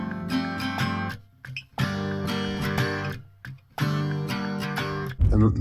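Multitracked electric guitars processed through an amp plugin play loud sustained chord phrases in three bursts, separated by short gaps, ending in a low thump.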